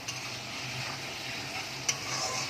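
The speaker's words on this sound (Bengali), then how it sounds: "দেখো মশলাটা আমি দিয়ে দিয়েছি, আর ভালো করে কষিয়ে নেব।" Spice paste fries in a wok and is stirred steadily, a continuous close sizzle with scraping strokes and a sharp clack near the end, no voices, while the masala is cooked down for a cabbage and fish-head dish.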